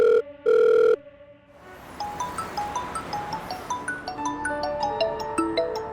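A mobile phone rings with a call from mother, first two loud steady electronic beeps, then a bright melodic ringtone of quick repeating chiming notes that grows busier and fuller, with no voices.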